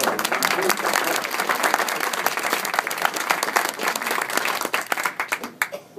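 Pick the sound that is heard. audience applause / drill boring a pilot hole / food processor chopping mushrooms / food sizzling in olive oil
audience applause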